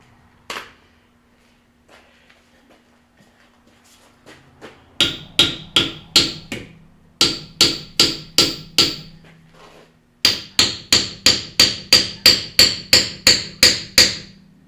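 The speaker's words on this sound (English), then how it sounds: "Not gonna give me my socket back. We're gonna have to punch that one out." Metal hammer blows punch a stuck socket out during strut and exhaust work on a 2012 Ford Explorer. After a few faint taps, about two dozen sharp, ringing strikes land in three quick rhythmic series, close and loud.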